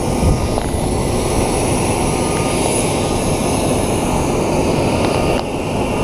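An airplane at Jose Marti International Airport in Havana roars with a loud, steady broadband engine drone that holds constant throughout, without talk.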